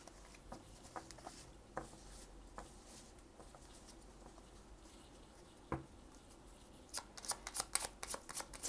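Tarot cards being shuffled by hand in short, crisp riffling bursts, quiet and close, with a brief louder flurry near the end and no talking.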